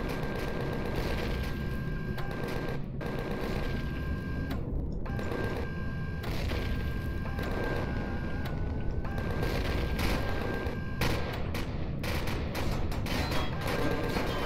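Gunfire at sentries in the video game Empyrion Galactic Survival, a dense, steady rattle of rapid shots lasting throughout, with a few brief gaps and a faint high whine in the background.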